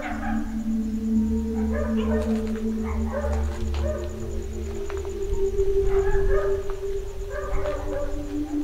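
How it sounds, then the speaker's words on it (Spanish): Dogs howling and barking at a cemetery at night, rising wails and scattered barks carrying from a distance over steady background hum, with someone talking. "De pronto los perros comienzan como que a aullar, a hacer bulla"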